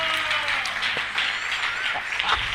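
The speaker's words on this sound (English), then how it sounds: "You can clap your hands" A church congregation claps its hands in a brief, dense burst of applause, with voices mixed into the crowd noise.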